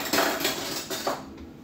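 A metal spoon knocks and clinks against a dish while olive oil is measured out, giving several light, close taps in an uneven rhythm, with no talk.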